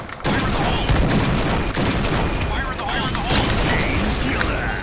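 Rapid gunfire from the Point Blank online shooter game, loud and near, with dense overlapping bursts running the whole time and sharp shot transients throughout; voices can be heard under the shooting.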